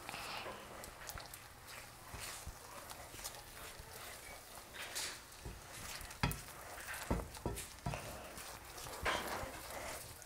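A spatula stirring and scraping scrambled eggs in a frying pan, with soft sizzling under a run of irregular sharp scrapes and clicks at close range.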